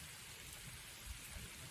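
Steady rain falls in the mountains at night, a dense continuous hiss of drops on surfaces with no pauses, fairly loud and close throughout, with a few low thumps underneath.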